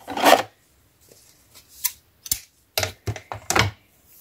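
Short rasping cuts through a large piece of scrapbooking material, several quick close bursts separated by brief silences.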